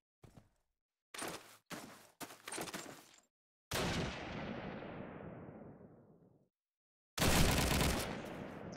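Loud gunfire in the Call of Duty 2 video game during a Netherlands versus Greece match: a few short bursts, then a single big shot with a long decaying tail, then another blast.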